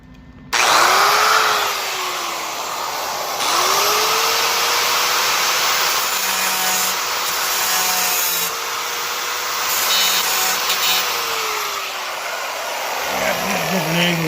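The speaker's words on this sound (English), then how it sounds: "Run this grinder down." An angle grinder runs loud and close on the body of a classic car under restoration, a sustained whine that rises and shifts as it works, with brief changes in pressure and a voice now and then.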